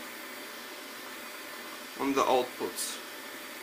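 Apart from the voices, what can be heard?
Xiaomi Mi robot vacuum cleaner running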